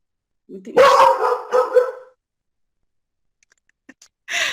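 A small dog barks indoors in a short run of loud, close barks, goes quiet for a couple of seconds with faint noises, then barks again.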